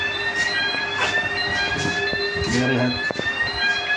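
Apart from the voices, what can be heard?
in-vehicle monitoring system alarm beeping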